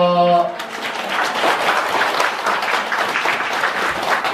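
A temple lecture audience breaks into steady, dense applause that rises after a brief opening and carries on loud and continuous to the end.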